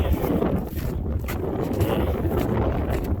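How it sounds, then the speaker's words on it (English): Strong wind blows outdoors on a farm during calving season, buffeting the microphone in a continuous loud rumble with gusty swells and no speech. "it's windier than heck"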